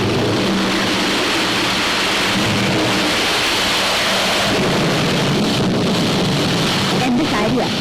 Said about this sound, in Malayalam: മഴയും കാറ്റും കൂടി വരുന്നുണ്ട്